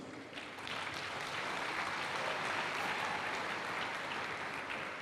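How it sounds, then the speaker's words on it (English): Audience applauding representatives of London University at a ceremony event in Nigeria, steady dense clapping from a large crowd that swells quickly and holds loud and continuous throughout. "Please give them a round of applause."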